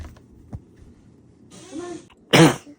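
A baby gives a sharp sneeze near the end, loud and close, after a soft creak and a brief voice earlier in the quiet room.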